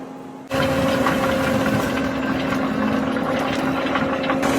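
A Bobcat fitted with a Coneteks forestry mulcher grinds through bushes with a loud, constant engine drone and rough grinding texture that starts abruptly and runs steadily.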